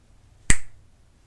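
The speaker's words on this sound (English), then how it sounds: "Quicker than you can snap your fingers like that." A single sharp finger snap, crisp and close, standing alone against near silence.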